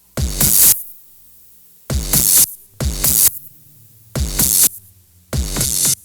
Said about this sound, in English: if I speed the tape machine way up, I can get a much tighter delay time.